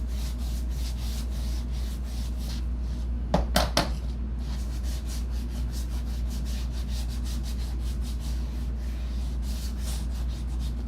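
Sandpaper being shaken out and rubbed while crafting wooden shelf sitters, with a steady close scratchy rustle under a constant low hum and a quick cluster of sharp taps in the middle.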